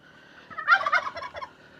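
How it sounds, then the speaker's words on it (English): Turkeys on a small homestead let out a close, clear gobble, a rapid warbling burst lasting about a second over a quiet background. "As you can see, here are the turkeys."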